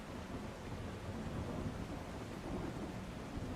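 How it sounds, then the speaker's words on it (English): Thunder rumbles through a video game storm, a long low roll layered with steady rain and faint wind, filling the whole stretch with dense, moderately loud noise and no voices. "Which might just be thunder."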